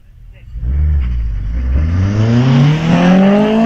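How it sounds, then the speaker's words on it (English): A bright yellow Lotus Exige race car launches into a hillclimb run, its engine rising steadily in pitch as it accelerates close by, with commentary heard alongside. "the bright yellow Exige will be on its way"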